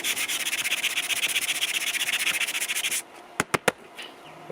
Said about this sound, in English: This area has taken a lot, quite a bit, of hand sanding